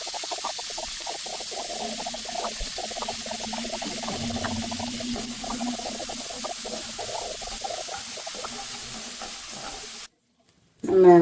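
Chopped big onion and curry leaves frying in hot oil make a steady close sizzle with light stirring clicks, ending in a short silence and a brief bump.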